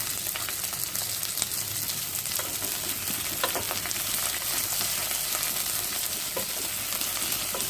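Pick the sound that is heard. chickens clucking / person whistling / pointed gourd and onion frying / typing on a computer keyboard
pointed gourd and onion frying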